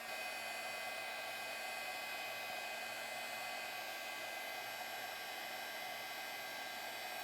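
Handheld craft heat tool running to melt embossing powder, a soft steady fan-like whoosh that holds unchanged throughout, with no voices.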